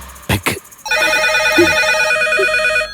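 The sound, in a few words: telephone ringing in a movie scene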